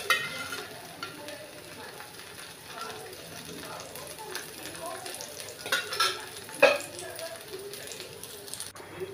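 Coconut dosa spreads thin on an oiled pan, giving a faint, steady sizzle with a few sharp clinks and scrapes rising briefly near the end.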